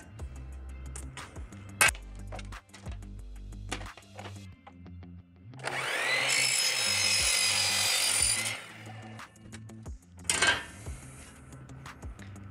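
Wooden lambril panel being cut for a small door, with a sustained rasping cut lasting a few seconds in the middle, surrounded by knocks, rubbing and handling clatter of wood and tools nearby.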